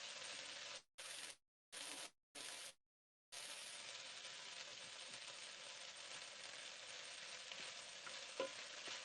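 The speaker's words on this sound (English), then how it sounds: "So we've got some green beans going in here. Let's give all that a mix." Green beans sizzle and fry steadily in a pan, a loud, dense hiss broken by several brief gaps early on, then continuous frying with faint scraping from stirring.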